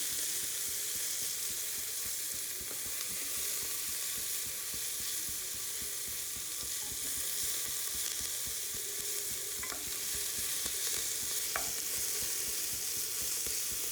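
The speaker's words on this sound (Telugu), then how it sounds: "పుదీనా, కొత్తిమీర, కరివేపాకు వేసుకున్నాం. వేసిన తర్వాత బాగా ఒకసారి మిక్స్ చేసుకొని అవి కొద్దిగా మగ్గనివ్వాలి." Mint, coriander and curry leaves sizzle steadily in a hot pan for bagara rice, with a few scraping stirs of a spoon cutting through the continuous close frying hiss.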